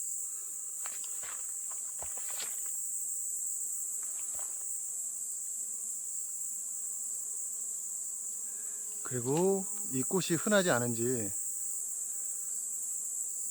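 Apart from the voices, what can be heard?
bees buzzing around flowers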